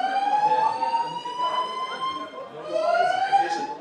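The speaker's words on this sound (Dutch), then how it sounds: "Dit is een ontruimingsalarm." A building evacuation alarm sounds during a fire drill at Avans school. It is a loud, continuous electronic tone that rises and sweeps, then dips briefly before returning.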